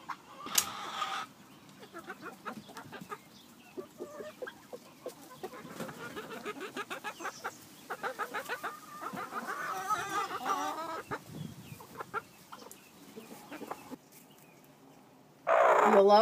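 Backyard hens clucking and calling as they are let out of the coop, a busy overlapping flock chatter building and fading, with a louder burst near the end.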